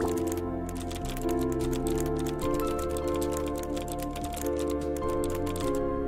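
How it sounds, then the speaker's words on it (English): Mechanical keyboard typing in the coding puzzle game Replicube, a rapid, continuous stream of crisp key clicks, loud and close over a steady musical background, no voices. "by the way, the keyboard sounds are so good"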